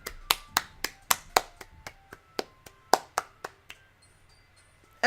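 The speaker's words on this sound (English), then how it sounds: "I'm the first to start applauding." A single pair of hands clapping steadily, about a dozen sharp, close claps in a loose rhythm, fading off near the end.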